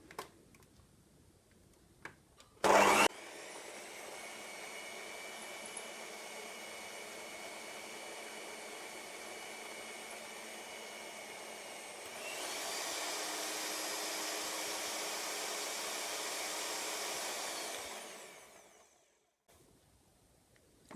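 An electric mixer whirs steadily as it slowly mixes flour into ginger sponge cake batter, starting after a short clatter, stepping up to a higher, louder speed midway, then winding down and stopping.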